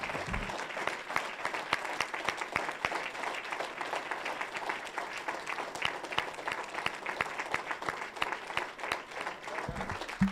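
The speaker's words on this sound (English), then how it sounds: "So if you may join me in a hand clap of appreciation and honor for them" Audience at a college of auctioneering student auction applauds, a sustained wash of many hands clapping with sharp individual claps standing out, steady throughout and fading slightly toward the end.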